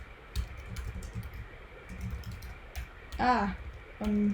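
Quiet clicks of typing on a computer keyboard in scattered soft taps, with a brief voice at the end.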